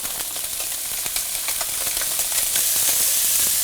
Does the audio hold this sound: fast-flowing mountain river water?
no